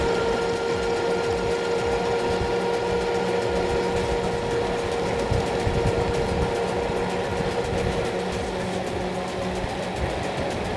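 An Aventon Sinch folding electric bike runs on throttle alone at around 20 mph, giving a steady motor whine with continuous wind and road rumble throughout.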